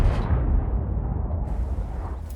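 Artillery shells land in a tank video game while a Kranvagn is in play, a dense, continuous low rumble of overlapping booms and blasts filling the short stretch without letup.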